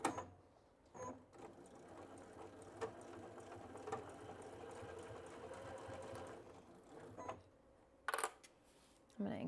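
A Baby Lock sewing machine stitches a seam on a tote bag, running as a soft, steady mechanical hum for several seconds between sharper clicks at the start and end, faint and close.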